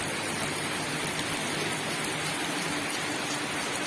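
Rain falls outdoors during a run, a dense, even hiss of steady rainfall that continues unbroken at a moderate level, with no voices.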